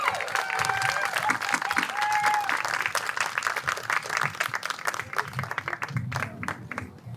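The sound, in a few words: crowd applauding the mayor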